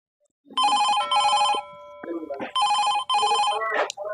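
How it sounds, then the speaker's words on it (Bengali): A telephone rings on the set of a Rajbanshi comedy sketch about country liquor and police, loud bright repeated double bursts with a short gap between them and brief voices between the rings. "এখন আবার কে ফোন করলো?"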